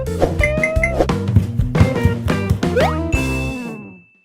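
A bright notification chime effect: a quick flurry of bell-like dings and jingles that rises, ends on a sustained high ring, then fades out, loud and clean with no voice.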